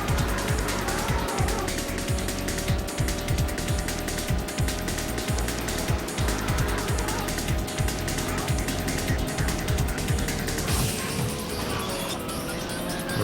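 Car tires squeal in The Need for Speed on the Sega Saturn, drawn-out skid tones over a constant loud engine drone and rhythmic thumping game music, continuing unbroken throughout.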